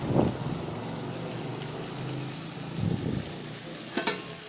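Spices frying in a pan with a little water added for homemade dal, a soft steady sizzle with occasional stirring scrapes and a couple of sharp clinks near the end.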